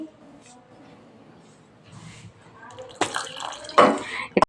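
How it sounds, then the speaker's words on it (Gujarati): Water splashes and pours into a thick handvo batter in a few short bursts, following quiet background sounds and faint talk. "એમાં પાણી ઉમેરી અને આપણે ઢીલું કરશું"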